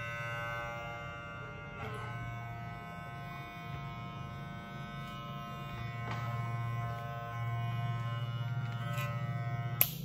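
A freshly oiled electric hair clipper runs continuously with a steady, close, low buzz and a few small clicks.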